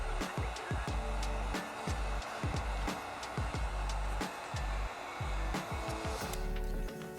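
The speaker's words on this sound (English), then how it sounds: "just make sure you apply heat, that will ensure that the film stays tacked down" A heat gun warms chrome delete vinyl film on the side trim of a 2019-2022 Toyota Avalon, giving a steady, close blower whoosh broken by repeated light clicks and taps throughout.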